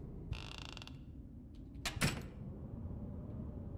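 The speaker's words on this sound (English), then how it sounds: "I really don't like that creaking." Creaking in a horror video game: a faint, drawn-out creak like a door or floorboard sounds once, then a couple of short sharper creaks follow over a low ambient drone.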